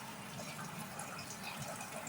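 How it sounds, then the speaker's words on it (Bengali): Water poured into a cooking pot of macaroni and tomato, a steady, even gush that holds at a soft, constant level for its whole length. "এখন পানি দিয়ে দিলাম"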